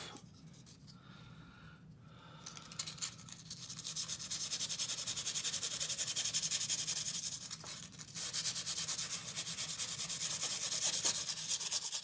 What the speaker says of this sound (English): I just took a little sandpaper and smoothed everything down a little bit.